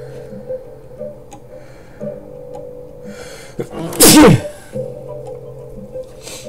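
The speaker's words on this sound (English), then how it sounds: "Excuse me, guys, I gotta sneeze." A single sharp sneeze bursts out loudly over a quiet room with a faint ticking in the background.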